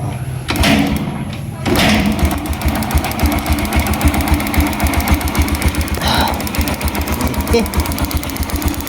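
A Yamaha STX motorcycle engine cranks and catches, then runs at a loud, close idle with a steady, rapid low thumping pulse while voices talk nearby.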